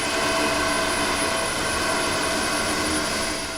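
Stone mill stones grind against each other during sharpening of a stone mill in Blauvelt, New York, giving a steady, loud, broadband rumbling roar that holds constant throughout and eases slightly at the end.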